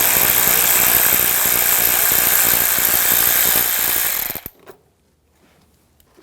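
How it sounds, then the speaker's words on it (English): Ratchet with a 10mm socket rapidly spinning off bolts on a 2009-2013 BMW 328i xDrive 3.0L inline-six, a dense, close mechanical buzzing clatter that runs steadily for about four seconds, then cuts off into near silence. "Remove these two bolts,"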